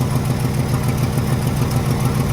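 An engine fitted with a Carter downdraft carburetor idles steadily once warm, a loud, close, even low rumble that holds throughout with no talking.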